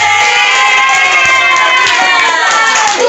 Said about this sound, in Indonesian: Sama berikan apresiasi dengan aplaus kepada kelompok 3